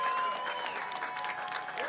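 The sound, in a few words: crowd applause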